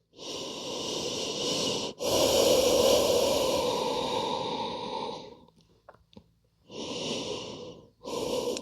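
Deep, slow breathing during a back-strengthening exercise, with long loud drawn-out inhales and exhales, close to the mic, separated by short pauses and a brief quiet gap with faint rustling.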